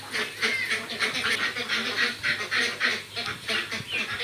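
Farm ducks quack and honk in a continuous, fairly close chorus of repeated calls that rise and fall steadily.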